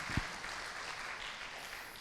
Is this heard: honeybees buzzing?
no